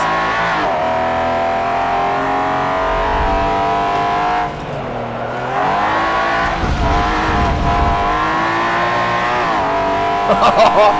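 A race car engine in Forza Motorsport 7 roars steadily with harmonic whine, pitch rising and dipping through gear changes, loud and continuous with a brief drop midway.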